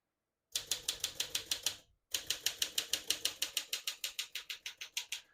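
A 1956 Smith-Corona Silent-Super portable typewriter clacks through a quick burst of keystrokes, pauses briefly, then types a longer even run of crisp, close strikes with no talking.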